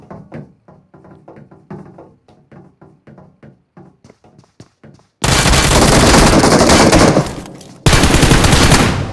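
Gunfire in the BGMI battle royale game on the Livik map: a rapid run of single shots with short pauses, then dense, loud automatic bursts filling the sound, broken by one brief gap.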